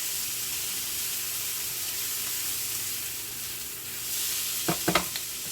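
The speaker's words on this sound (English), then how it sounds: "You want it to be simmering. You want bubbles" A pot of water simmering for poaching eggs, a soft continuous hissing bubble close by, with a few sharper taps or clinks near the end.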